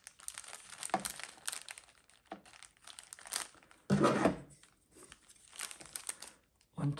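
A large plastic bag crinkles and rustles in bursts while being handled during a paper craft project, with a louder crumpling burst around the middle and intermittent quieter rustles.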